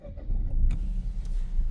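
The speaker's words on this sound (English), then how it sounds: "So to start the car, foot on your brake," A Peugeot 2008 PureTech SUV engine turns over and fires up, a brief starter burst followed by a low, steady idle rumble heard from inside the cabin.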